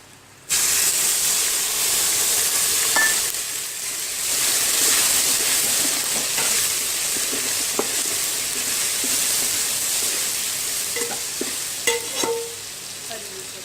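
Tomatoes going into a pan of frying pulao masala with green and red chillies set off a loud, steady hiss and sizzle. Soft stirring scrapes and a few clinks sound over it, with no voices.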